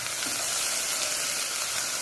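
Finely chopped onions, about a cup, sizzle and fry steadily in hot oil, a continuous close hiss with faint stirring throughout and no voices.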